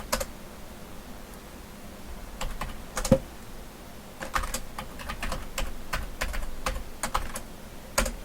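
Bursts of computer keyboard typing click out in quick irregular clusters, pausing briefly between runs of keystrokes, close and clear over a quiet room hum.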